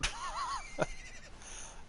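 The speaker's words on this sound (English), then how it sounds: "I know that's another donkey somewhere" A donkey brays in the video game Dawn of Man, a single wavering call with rising and falling pitch, close and fairly loud over a steady ambient game background.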